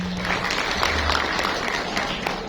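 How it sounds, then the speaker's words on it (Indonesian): An audience at a parenting seminar applauds speaker Kang Febri, a brief, even burst of many hands clapping at close range, steady and dense for a couple of seconds. "Sekali lagi tepuk tangan untuk Kang Febri."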